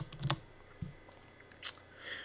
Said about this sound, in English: And I'll type in Shine Down.